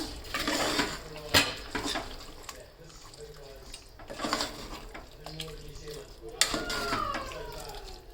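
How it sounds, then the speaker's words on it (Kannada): Chicken dum biriyani ingredients with curd being stirred together in a pot in a home kitchen, giving intermittent clinks, scrapes and utensil knocks against the vessel, fairly close and moderately quiet. "ಚೆನ್ನಾಗಿ ಮಿಕ್ಸ್ ಮಾಡ್ಕೊಳ್ಳೋಣ ಇವಾಗ"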